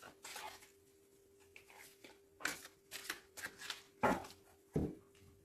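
Tarot cards are cut and shuffled in several quick, papery bursts of riffling and slapping, close and fairly quiet, with brief pauses between them and no talking.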